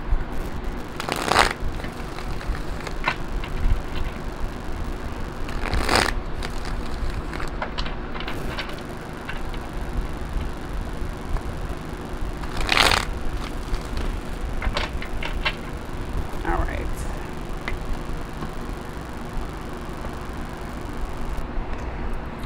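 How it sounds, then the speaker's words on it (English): A few separate riffling shuffles of tarot cards, about three quick bursts spaced seconds apart, over a quiet room hiss. "3 shuffles."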